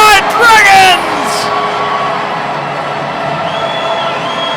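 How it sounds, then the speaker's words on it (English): Ice hockey crowd cheering after a short-handed goal for the Deeside Dragons against the Nottingham Lions, a loud burst of shouts and whoops in the first second settling into a steady arena roar. "The crowd back on their feet as the energy returns to the Dragon's Den"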